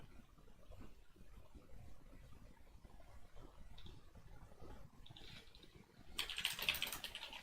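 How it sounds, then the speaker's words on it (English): Steady keyboard typing, soft rapid clicks running throughout, with a brighter, louder burst of clatter near the end. "I'm typing rudely at the same time as trying to talk"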